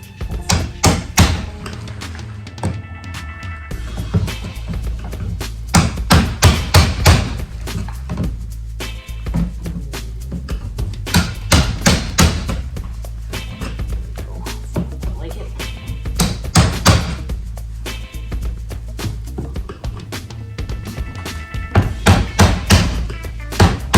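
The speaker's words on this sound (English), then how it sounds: "I'm going to grab a hammer and a awl and we will get it done." Sharp metallic hammer taps on an awl punching out rivets on a canoe, in quick bursts and clusters, striking repeatedly with short pauses between groups, close by.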